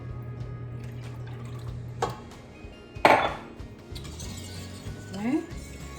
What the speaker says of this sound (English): add the rest of the milk.